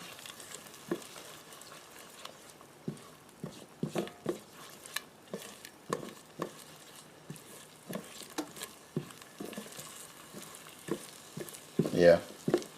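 Food sizzles and fries in a COSORI rice cooker on sauté mode while being stirred, with scraping stir strokes and crackling bursts in an irregular rhythm, close and moderately loud, and one louder scrape near the end.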